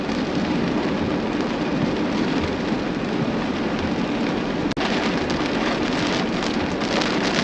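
Rain pours down during a Kansas storm with tornadic conditions, a heavy, unbroken hiss of falling water and gusts that runs steadily throughout, broken only by one brief sharp crack near the end.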